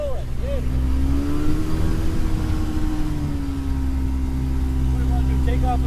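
A Kitfox light aircraft's engine drones steadily and is given a little throttle, a loud continuous hum with a slight rise in pitch, heard close from inside or beside the plane.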